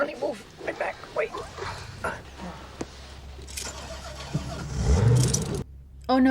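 A car engine runs and revs in a 1992 comedy film scene where the car is getting stuck, rumbling low under talk and a dog's bark before a louder surge near the end.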